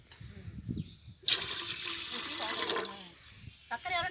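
Water is poured from a tumbler into a pot while making a festival rice-flour recipe. A splashing gush lasts about one and a half seconds, with soft clinks and faint voices around it.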